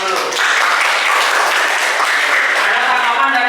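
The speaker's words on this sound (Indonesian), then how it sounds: "Tepuk tangan untuk kelompok 1 dulu" A classroom group claps for the first student group in an Islamic studies lesson, a steady wash of many hands continuing throughout, with a voice briefly audible.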